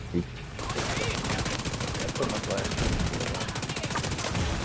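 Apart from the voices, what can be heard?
MPX submachine gun firing in Division 2 video game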